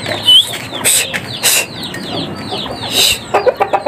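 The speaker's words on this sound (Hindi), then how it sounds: "किधर जा रहे हैं मुर्गे?" Domestic chickens and roosters at a rural home cluck and squawk close by in quick, overlapping bursts, with a few sharper cries and some wing flapping; no one speaks.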